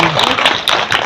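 At a village International Women's Day gathering in India, the audience claps in a loud, close, dense burst that runs throughout.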